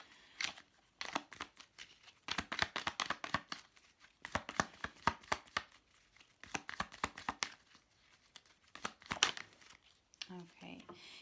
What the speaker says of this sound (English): Let's get one more card to clarify this.